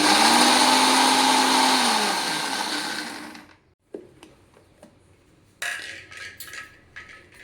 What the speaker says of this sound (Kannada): ಇದಕ್ಕೆ ಪುಡಿ ಮಾಡ್ಕೋಬೇಕು ಚೆನ್ನಾಗಿ.